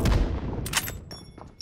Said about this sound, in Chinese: 先用榴弹轰炸他